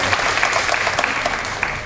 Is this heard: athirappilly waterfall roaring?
no